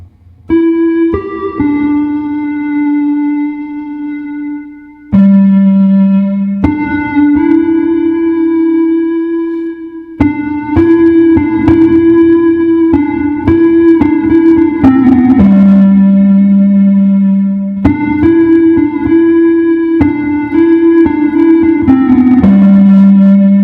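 Sustained guitar chords played slowly through a cassette effect, washed in reverb with a slightly wobbly, lo-fi tape-like character, changing every few seconds.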